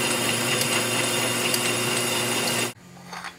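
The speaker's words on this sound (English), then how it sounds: "So let's go chuck this up in the lathe and get it turned down." A metal lathe turns down a flange, shaving a few thousandths off the part, producing a steady, loud machining drone with a faint hum that cuts off abruptly near the end, leaving quieter room noise.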